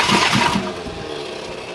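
Starter motor cranking the diesel engine of a Weasel vehicle after glow-plug preheating, a loud churning whir that rises and then settles into a steady drone, close by with no talk.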